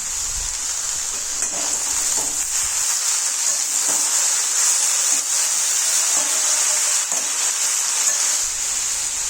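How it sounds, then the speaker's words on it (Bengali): Tomato pieces and eggplant sizzle steadily in a frying pan, a loud continuous hiss with faint scraping and stirring knocks throughout, no voices. "বেগুন দেওয়ার পর খানিকক্ষণ নাড়াচাড়া করে টমেটো টুকরো দিয়ে দিলাম"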